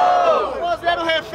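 A crowd at a Brazilian rap battle roars and cheers loudly for a brief burst, with shouts rising over the noise.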